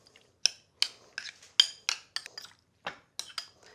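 A utensil mixes a shrimp marinade of salt and pepper in a bowl, clinking against it about a dozen times in an uneven rhythm. The taps are close, crisp and bright, with near silence between them.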